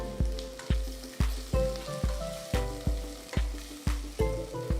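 Onions, green chillies and pounded ginger and garlic fry in a pan for a pulao, a steady sizzle broken by regular, evenly spaced knocks of stirring, close and fairly loud.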